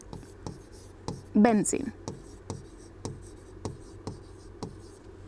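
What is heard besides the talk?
writing on a board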